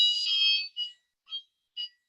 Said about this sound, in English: there's just a fire alarm's just gone off.